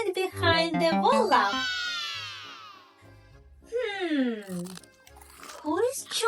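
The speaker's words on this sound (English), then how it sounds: "Who is chewing so loud?" Cookie Monster puppet munching cookies loudly, with crunchy chewing bursts mixed in among animated, high-pitched puppet voices talking and singing.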